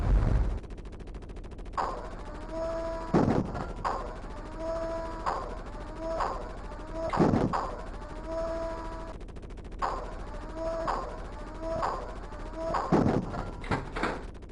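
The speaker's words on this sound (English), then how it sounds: "while you get pelted with enemy gunfire" Sharp, booming enemy gunshots burst out every few seconds in the Sega Genesis game Jungle Strike, several loud cracks spaced irregularly over a busy background of game sounds.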